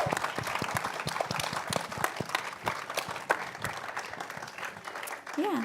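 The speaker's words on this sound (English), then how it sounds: "If you guys want to give them a round of applause." Applause from an audience at an animated-shorts screening event, a crowd clapping steadily with scattered sharper claps, faint voices mixed in and a brief whoop near the end.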